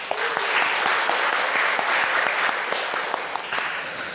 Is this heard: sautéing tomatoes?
no